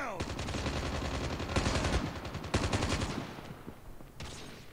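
Rapid automatic fire from an M4 rifle in the mobile shooter game Call of Duty: Mobile, loud sustained bursts with brief pauses, a voice faintly underneath.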